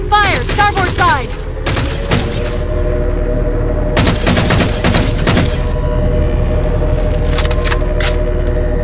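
Dense gunfire from the Halo 4 video game: rapid bursts and clattering volleys over a constant roar of engines, with shouted voices mixed in, loud and continuous throughout.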